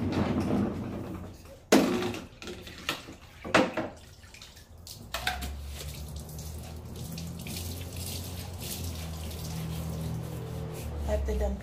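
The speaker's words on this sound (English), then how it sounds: "I have to dump yesterday's water out." Old mop water pours and splashes steadily into a sink or drain for several seconds, after a few clunks and knocks of a bucket being handled nearby.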